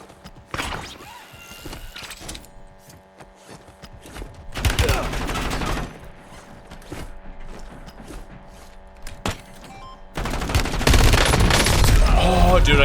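Gunfire in the shooter game Warzone comes as rapid bursts of automatic fire and mechanical clatter, with dense volleys near the start, middle and end, loud and close, while a voice talks intermittently.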